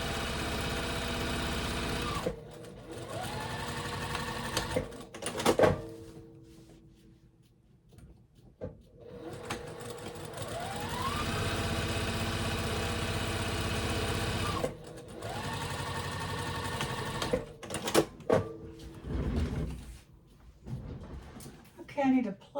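A Juki sewing machine with a regular skinny foot quilts straight lines on a boxy bag, running in several steady stitching bursts separated by pauses, with a person talking at times between the runs.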